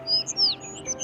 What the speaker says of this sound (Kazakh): Анау жақта торғайлар шырылдап тұр.